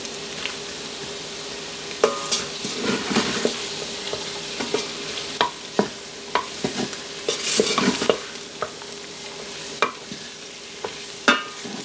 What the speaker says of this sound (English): We'll let this saute for a little bit to loosen up the oils in the liquids in the vegetables